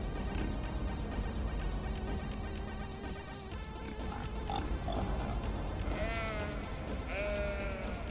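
Animal bleats and grunts from pigs in the Cities: Skylines video game, layered over a steady bed of game music and ambient noise, with a few short calls rising near the end.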